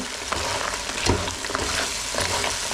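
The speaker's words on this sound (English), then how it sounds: "put back in the coated crispy tofu. Down. Stir that in." Coated crispy tofu being stirred into sweet and sour sauce in a pan, close and fairly loud, with a continuous bubbling sizzle broken by repeated spoon scrapes and knocks, no voices.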